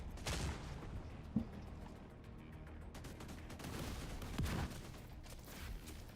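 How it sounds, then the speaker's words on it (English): Gatling gun fire in a boss fight against the Iron Horse in a video game, heard as a steady rolling burst of rapid shots with a few louder bangs, fairly quiet and continuous throughout. "Even with your shield out, you can activate the Gatling gun"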